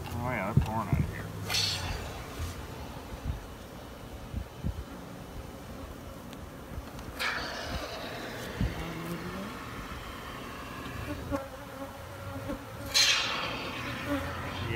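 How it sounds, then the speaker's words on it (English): Honeybees stream out of gaps in a Spanish tile roof, a steady insect buzz that swells and fades in close bursts while someone talks over it. "Oh yeah, they're pouring out of here."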